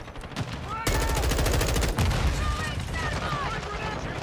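Gunfire in the shooter Modern Warfare 2, a sustained rapid automatic burst with loud closely packed reports, a second volley after a brief pause, and whistling effects overhead.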